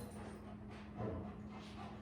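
A dog whimpers softly indoors, faint high whines and light panting over a steady low household hum, with no talking.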